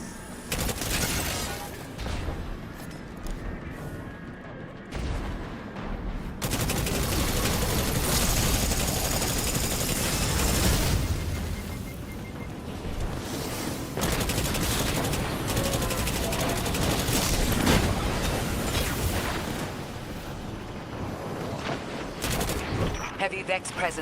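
Video game firefight as Vex forces trade fire with an exile raiding party: dense, continuous bursts of gunfire and explosive blasts fill the scene for most of its length, with a voice speaking at times over the battle.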